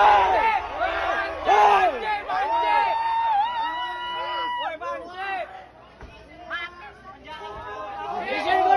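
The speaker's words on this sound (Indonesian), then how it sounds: "akhirnya pelaku ini atau si Gentonya ini dijemput kepolisian dengan sorakan para warga di sana" Residents jeering and shouting as police take away a bullying perpetrator in Cilacap, a loud, excited crowd of many voices yelling and calling out over one another, swelling and dipping throughout.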